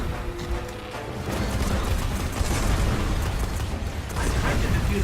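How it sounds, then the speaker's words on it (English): Explosions and battle noise in the video game Destiny during a bomb-defusal mission, a dense, continuous rumble with scattered pops and bursts, loud and sustained throughout. "those explosions are not helping"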